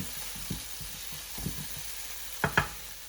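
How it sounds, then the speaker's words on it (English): Spices cooking in a pan for rajma curry hiss with a low sizzle while a spoon stirs and scrapes, several distinct knocks and scrapes, the last two sharper and louder, heard close. "You need to stir this like for at least for 10 minutes because we need to cook the spices really well"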